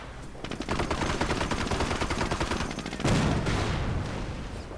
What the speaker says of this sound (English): Mortar rounds continue to land, but they continue to miss as well.